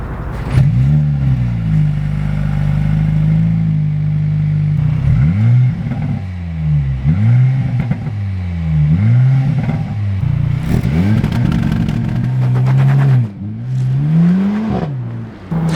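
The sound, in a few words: sports car engine revving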